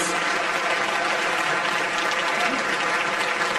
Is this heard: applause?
yes